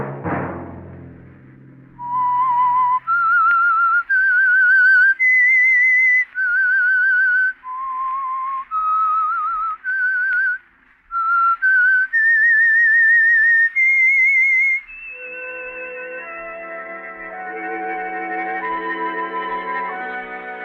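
A lone human whistler carries the melodic theme of the radio mystery show The Whistler, a sequence of sustained notes with slight echo, shifting into a soft orchestral chord passage near the end.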